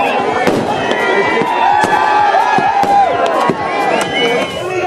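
Firecrackers and fireworks bursting at New Year celebrations in Tamil Nadu, a dense run of loud sharp cracks and pops over a cheering crowd, close and continuous.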